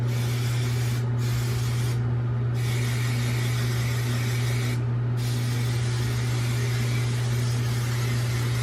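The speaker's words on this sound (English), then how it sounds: "I'm just gonna spray the Chi Royal treatment for some added shine" Chi Royal treatment shine spray hisses steadily onto styled, gelled hair, a continuous close spray broken by a few brief pauses, over a low, constant hum.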